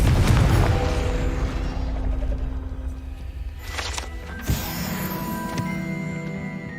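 Blasting spell cast in the Hogwarts Legacy video game, a dense rumbling burst with a sharp crack near the middle and a second smaller impact, followed by ringing magical tones over a low background hum.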